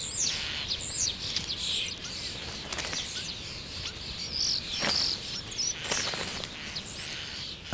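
Starlings feeding young among cherry trees give repeated high chirps and whistled calls, moderately near over a soft outdoor background with a few sharp taps and rustles.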